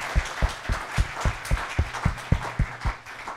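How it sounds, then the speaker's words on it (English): Applause from a conference dinner audience for speaker Dr. P.J. Nayak, mostly one nearby pair of hands clapping in a steady, even beat over a softer background of other claps. "please join me in giving Dr. Nayak a big round of applause"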